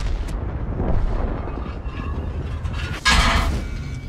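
Tank cannon shot striking an IS-4 in a video game, a sharp bright impact burst after a muffled rumbling battle bed with a faint earlier boom.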